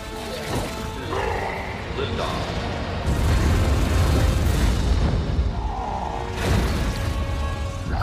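A rocket explodes in a Venom film scene with a heavy, roaring boom and rumbling blasts that swell and surge over several seconds, loud and dense throughout.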